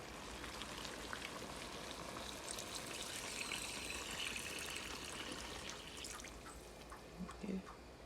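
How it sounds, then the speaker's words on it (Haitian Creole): Water pours steadily into a cooking pot while kalalou (okra) sauce with tomtom is being made, a soft, continuous splashing hiss under faint background voices. "n'a mettez de l'eau là-dedans"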